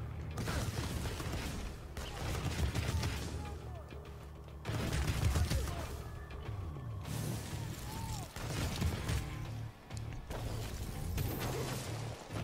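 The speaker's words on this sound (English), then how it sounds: "I can shoot missiles from my hands?" Missiles fired from the hands in the video game inFAMOUS Second Son, a series of bursts, whooshes and mechanical clatter over a busy, layered game soundscape, moderately loud throughout.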